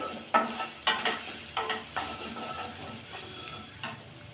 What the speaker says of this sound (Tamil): இப்போ இது எல்லாத்தையும் நல்லா மசாலாவை நல்லா வதக்கி விட்டுக்கலாம்